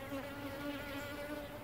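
Honeybees buzz steadily around a hive during a removal from an abandoned house, a continuous close insect drone with a steady hum, no speech.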